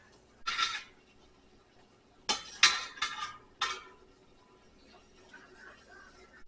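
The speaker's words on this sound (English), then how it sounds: "take a slotted spoon and go ahead and get this garlic out" A slotted spoon scoops garlic out of stock in a pot, giving a few short metal clinks and scrapes against the pot, a brief knock and then a quick cluster of louder clatters, with quiet gaps between.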